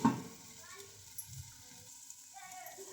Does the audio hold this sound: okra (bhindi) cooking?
yes